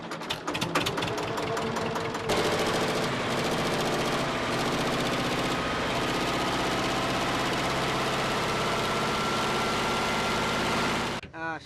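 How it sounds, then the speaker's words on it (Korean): Fishing boat engine on the Bay of Bengal, Bangladesh, being checked before departure: a few uneven starting chugs, then a loud, steady, rapid mechanical rattle running close by until it cuts off at the end. "출항 전 음식 준비와 함께 꼭 빼먹지 않은 것이 바로 엔진 점검입니다"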